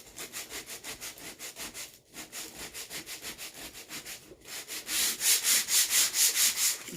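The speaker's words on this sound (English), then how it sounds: "I'm just taking a sandpaper" Sandpaper scrubs back and forth over a painted wooden table in a steady, rhythmic series of close strokes, growing louder and brighter toward the end.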